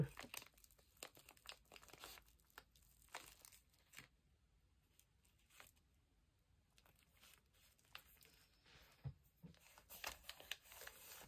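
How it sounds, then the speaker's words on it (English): Paper crinkles and rustles in irregular, close bursts as cards are handled and glued into a book, with quieter stretches between the crumpling noises. "I love the paper sounds"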